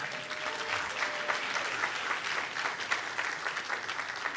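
Steady applause from a conference audience, a dense even patter of clapping that holds at a moderate level throughout without pause.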